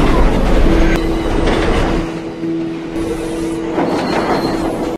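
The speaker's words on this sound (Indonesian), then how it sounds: "Kemudian dia naik kereta menuju ke tempat kerjanya." A train rumbles loudly along the tracks, with steady rolling noise, a faint squeal tone and rhythmic clacking of wheels.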